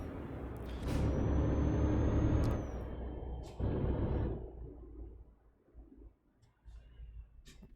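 A truck's handbrake releasing in Euro Truck Simulator 2: a loud pneumatic air hiss with a thin whistle lasts about two seconds over a low engine idle, followed by a second shorter burst of air, then quieter rumbling.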